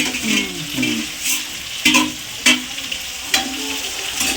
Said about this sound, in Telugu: అల్లం పేస్ట్ వేసుకొని అలా తిరగదిప్పుకోవాలా